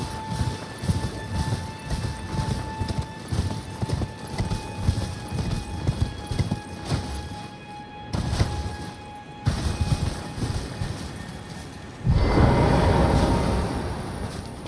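A horse gallops at a fast, steady rhythm of hoofbeats in Elden Ring, loud and close, briefly pausing before a louder whooshing burst near the end.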